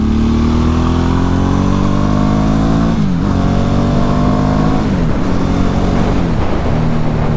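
A 2010 Ducati Hypermotard 1100 Evo motorcycle accelerates loudly and close through a string of bends and slopes, its engine note climbing steadily, dropping briefly at each gear change, then rising again, with no talk over it.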